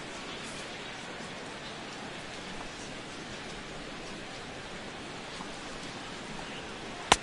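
Steady rain falls over a baseball stadium, a constant even hiss that continues without a break.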